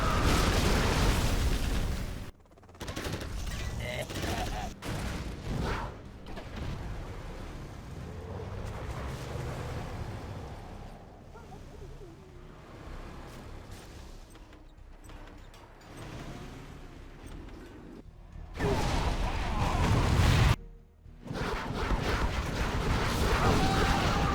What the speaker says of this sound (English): Particle cannon now in play.